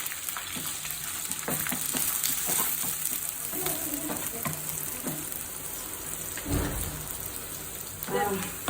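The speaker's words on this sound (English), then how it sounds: "So now onions are fried." Sliced onions sizzle in hot oil in a pan with green chili and curry leaves, a steady crackling fry broken by soft stirring clinks, fairly quiet and close.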